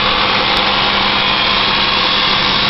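A 2001 Chevrolet Malibu engine idling after a cold start, a steady, even hum with a faint constant whine, close and alone with no knocking or rattle.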